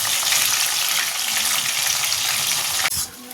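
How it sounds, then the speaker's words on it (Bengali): Chicken pieces frying in hot oil in a pan, giving a loud, steady, close-up sizzle that holds without a break, then cuts off abruptly near the end. "আর এদিকে চিকেন ভাজা হচ্ছে"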